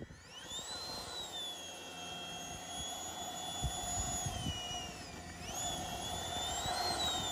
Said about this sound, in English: That was a great flight on the lightened version of the 12S Freewing F-22 90mm.